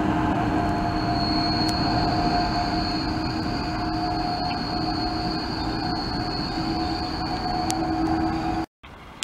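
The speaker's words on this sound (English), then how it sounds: "8170 leading and 8151 is the set trailing loco on this AK train." An AK train led by locomotive 8170 with 8151 trailing passes over Meadowbank Rail Bridge, a loud, close, continuous roar of rolling wheels with sustained high metallic squealing and occasional sharp ringing tones, cut briefly near the end.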